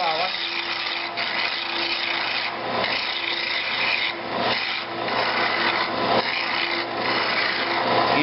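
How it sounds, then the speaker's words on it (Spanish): A metal file rasps back and forth across a saw-cut tube end, rounding off burrs, in repeated, rhythmic strokes, close and fairly loud, with short pauses between passes. "Yo puedo tomar una lima y en esta parte donde hice el corte con la sierra lo redondeo"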